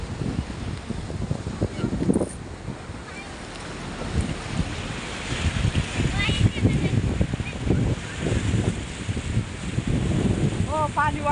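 A flooded river rushes loudly in a continuous churning roar, with gusts buffeting the microphone and people talking over the water now and then.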